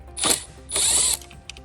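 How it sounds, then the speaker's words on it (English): A screw being turned out of the front fascia of a Clearview Compact towing mirror's indicator, giving two short bursts of close, crisp ratcheting clicks with a brief pause between them and no talk. "What you want to now do is unscrew"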